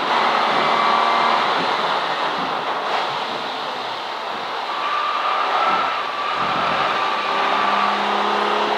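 A V12 race car lapping Silverstone during a CSCC Modern & Future Classics race, a continuous loud engine roar with shifting tonal whine as revs rise and fall, briefly dipping around mid-lap and near the end.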